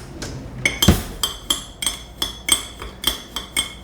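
Panko breadcrumbs with salt and paprika being mixed in a bowl, a run of regular light clinks and taps of a utensil against the dish, with one louder knock near the start, and no talk.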